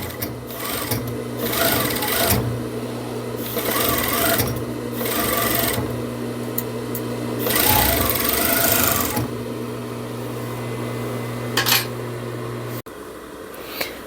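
Sewing machine stitching elastic onto the cuff of a knit blouse, running in several bursts of steady whirring with short pauses, then stopping near the end.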